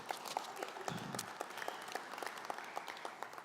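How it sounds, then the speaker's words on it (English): Applause from a conference audience at a summit keynote, many hands clapping in a steady, fairly quiet wash heard from a distance, with some individual claps standing out in a regular rhythm. "Let's clap for that."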